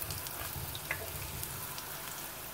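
Christmas buñuelos browning in a shallow layer of oil in a pan, a quiet steady sizzle with scattered small pops and crackles, heard close and alone.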